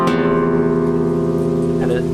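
A guitar chord strummed once with the low sixth string included, ringing out full and sustained close up and slowly decaying, with no talking.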